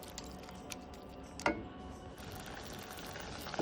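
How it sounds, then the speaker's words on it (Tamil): Spinach simmers uncovered in a small amount of water with salt and turmeric in a pan, giving a steady soft bubbling hiss with a single brief clink partway through and no talking. "கீரை கொஞ்ச நேரம் வேகட்டங்க. தட்டை போட்டு மூடக்கூடாது, கலர் மாறிடும்."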